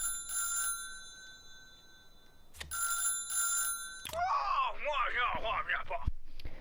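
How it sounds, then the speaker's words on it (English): A telephone rings in the Little Big Workshop video game, two bright electronic trill bursts separated by a pause, followed by a game character's voice speaking over it. "and we got a phone call."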